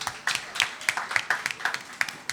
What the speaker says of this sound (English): Let's give a round of applause to the Knight Foundation.